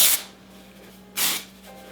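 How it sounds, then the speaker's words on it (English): Two short bursts of hair spray hiss from an aerosol can, close and clear, about a second apart. "So you just want to spray that pretty much everywhere"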